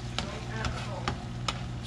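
Food warming in a pan is stirred with four evenly spaced scraping strokes over a low, steady cooking hum.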